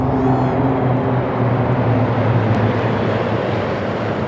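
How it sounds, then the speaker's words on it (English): Several military helicopters, two Oryx medium utility helicopters and a Super Lynx maritime helicopter, fly over a presidential inauguration ceremony with a steady, loud, droning rotor and engine roar that holds throughout. "supported by 2 Oryx medium utility helicopters on the wings left and right, and in the middle, and Super Lynx 300 M64 maritime helicopter aircraft."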